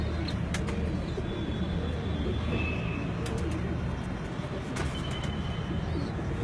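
An Imam Din breed pigeon coos in soft, repeated low calls close by, with faint chirps and background hum around it.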